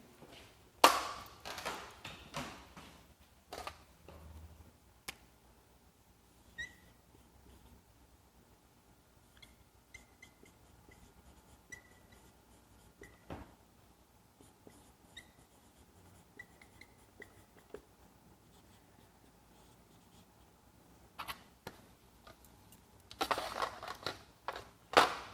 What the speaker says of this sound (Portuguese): Vamos escrever isso no quadro